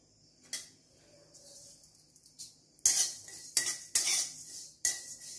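Thalipeeth bhajani flour with ajwain being roasted and stirred in a hot kadhai with the heat off: quiet at first, then a run of loud metal spoon scrapes and clinks against the pan.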